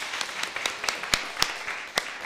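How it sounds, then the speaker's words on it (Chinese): Scattered applause at a church Christmas praise service, a short burst of light hand claps with a few sharper individual claps standing out, moderately distant in a large room. "掌声鼓励"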